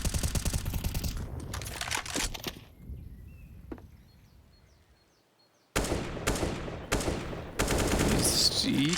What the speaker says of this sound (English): Is he trying to fire down the hallway?